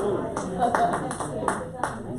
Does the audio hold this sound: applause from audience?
yes